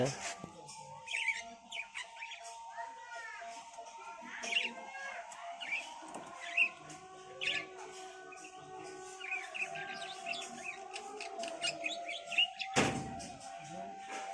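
Finches chirp and twitter repeatedly in short bursts over a steady background hum, with a brief louder clatter near the end.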